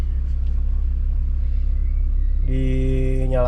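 A Toyota Corolla AE101 engine idles with its AC compressor running, a steady low rumble close by, then a harmonic whine comes in partway through as the load shifts.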